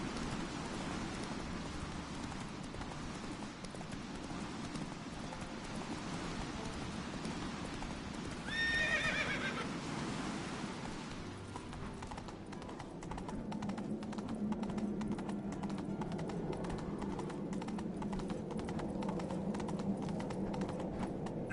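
Roach, a horse in the Witcher 3 video game, clip-clops in a steady rhythm through rain and gives one brief whinny partway through, fairly faint and with no talk.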